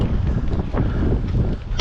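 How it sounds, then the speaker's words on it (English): Strong wind buffets the microphone on a Pacific Crest Trail mountain path near Mount Laguna in light drizzle and a snowstorm, giving a steady, close rumbling gust with no speech. "the wind is really blowing"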